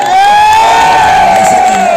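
A large rally crowd cheers and whoops loudly for Priyanka Gandhi in Kekri, a sustained wall of voices with rising and falling shouts and possible clapping beneath.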